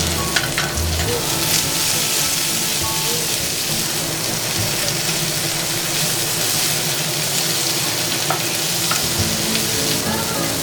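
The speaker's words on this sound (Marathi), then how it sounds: "लाल शिमला मिर्च, पिवळी शिमला मिर्च, हिरवी शिमला मिर्च, गाजर, पत्ता कोबी हे सर्व आता मिक्स करून घेऊया" Red, yellow and green bell peppers, carrot and cabbage stir-fried over high heat for wheat-flour noodles, giving a steady, dense sizzle and crackle throughout, loud and close, with occasional scrapes of stirring and no talking.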